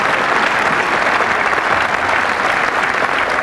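A crowd at a ladies' bowls match breaks into sustained, dense applause, loud and even throughout with no voices standing out.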